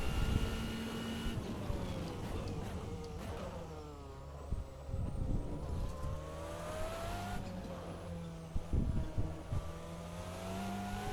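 The VRC Auriel 8 race car lapping a circuit in a racing sim, its engine loud and continuous, rising and falling through gear changes as it accelerates and brakes.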